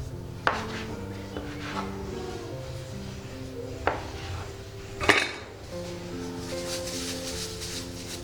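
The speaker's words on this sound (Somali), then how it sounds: "markaan sidaa u wada jarjaro" Bread dough for honeycomb bread is cut into pieces, a few sharp taps of a blade striking the board at irregular intervals, faint and close, under soft background music.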